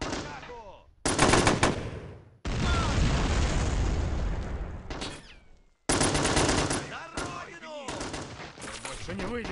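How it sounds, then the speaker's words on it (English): Serbian artillery firing in a Chechnya 2005 war video game, heard as loud, sharp bursts of heavy gunfire and booming blasts with abrupt cutoffs, some sustained rumbling volleys and brief gaps between them. "the Serbian artillery engaging."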